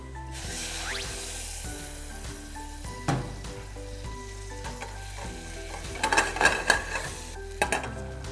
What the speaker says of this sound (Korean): 양파를 숨이 죽게 충분히 볶아주고